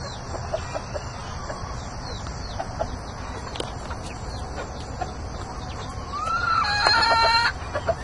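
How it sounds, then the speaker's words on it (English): Backyard chickens cluck steadily at moderate distance while a young Black Orpington rooster lets out a short, thin crow near the end, over a soft outdoor background. "In the very back, we got a couple young Black Orpington. That's going to be a little rooster."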